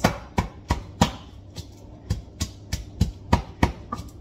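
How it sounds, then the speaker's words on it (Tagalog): Garlic cloves being pounded, about a dozen sharp, close knocks in a fairly regular rhythm roughly three per second, each a short thud with a brief ring, and no voices. "dikdikin ko lang yung ahos"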